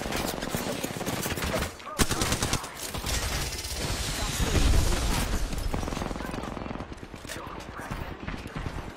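Rapid charge rifle gunfire from an online shooter game, loud sustained bursts of shots with booming impacts, mixed with a player's voice talking over the action.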